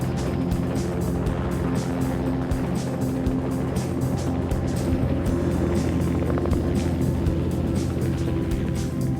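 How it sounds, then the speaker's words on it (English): A helicopter's rotor thumps in a rapid, steady chop over a loud engine drone as it lifts the engineless Dream Chaser spacecraft, sustained and fairly close, with no voices. "awaiting a lift from a chopper"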